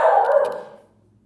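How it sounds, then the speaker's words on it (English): A single sharp dog bark, close and loud, fading quickly into quiet. "What are you barking at?"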